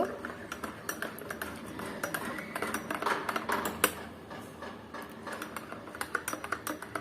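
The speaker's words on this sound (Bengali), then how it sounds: "আর এখন এটাকে একটু নেড়ে চেড়ে দিব।" A spoon stirs homemade cappuccino mixture made with Nescafé instant coffee, giving a steady run of quick clinks and scrapes against a cup, close and fairly quiet with no voice.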